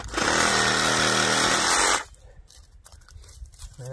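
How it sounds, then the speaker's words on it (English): A big Sawzall reciprocating saw cuts suckers on a fruit tree, loud and close with a steady buzzing rasp for about two seconds, then stops abruptly and leaves quiet rustling outdoors. "brought the big sawzall out to trim this where all these suckers are coming out of"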